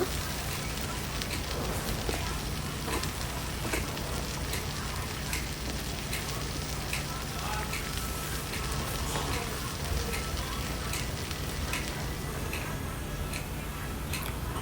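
Okra frying in a covered pan, with a steady close crackle and fine sizzling ticks running unbroken throughout, with no voices over it.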